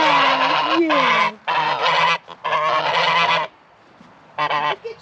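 Geese honk loudly and close by in a poultry yard, several long brassy calls in bursts with short pauses between, one voice rising and falling in pitch.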